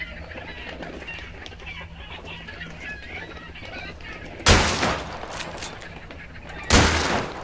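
Chickens clucking in the video game Hunt: Showdown, a steady busy flock chatter with ambient game noise, broken by two sudden loud bursts near the end.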